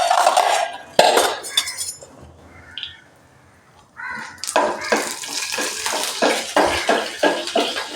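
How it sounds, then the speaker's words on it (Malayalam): Mustard and fenugreek seeds splutter in hot oil in a home kitchen pan, a sharp clatter at first and then a dense run of close popping crackles after a brief quiet, with no one speaking. "നമുക്ക് കടുക് ഇട്ട് കൊടുക്കാം."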